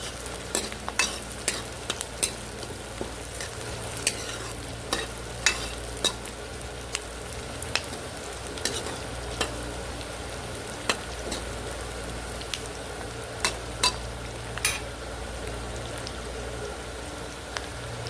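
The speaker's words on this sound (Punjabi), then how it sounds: "ਪਿਆਜ਼ਾਂ ਨੂੰ ਅਸੀਂ ਜ਼ਿਆਦਾ ਨਹੀਂ ਭੁੰਨਾਂਗੇ ਹਲਕਾ ਬਰਾਊਨ ਹੀ ਕਰਾਂਗੇ" Sliced onions fry in oil until light brown, a steady sizzle with regular scraping clicks of a spoon stirring the pan, close and continuous without talk.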